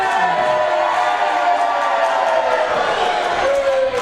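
A wrestling crowd at a live show cheering and roaring continuously, with a commentator talking over it.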